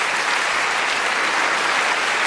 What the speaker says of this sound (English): A round of applause for both our men.